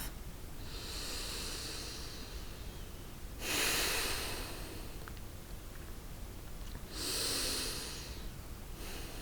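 Slow, deep breaths during yoga practice, long airy inhales and exhales drawn through the nose, two stronger surges among softer breathing, close to the mic and hissy, with no talking.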